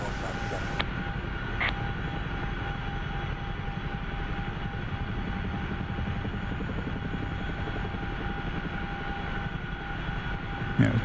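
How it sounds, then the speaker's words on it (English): A CH-47F Chinook helicopter flying in the DCS combat simulator, a loud, steady rotor and turbine roar with a constant low throb, continuous and close throughout, with a faint click or two near the start and end. "it's kind of fun flying around in a helicopter, taking in the scenery."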